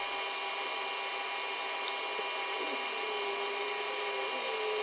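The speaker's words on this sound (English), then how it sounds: "I'm going to run the knurl down the whole length of the bar and then cut out those bits that I don't want." A lathe knurling a stainless steel bar, running the knurl down its whole length, gives a steady, continuous mid-volume machining whine and hum with small scraping ticks and no speech.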